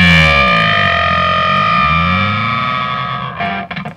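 An electric guitar runs through a Gearhead Dead King octave fuzz pedal, giving a nasty, screaming, distorted tone with sliding pitch sweeps that ring out close and loud before a few choppy final notes.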